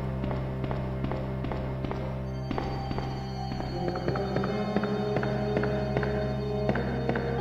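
Steady hard-soled boot footsteps clack across a marble floor at a walking pace in the 1998 game Resident Evil 2, over a constant low hum and faint background ambience.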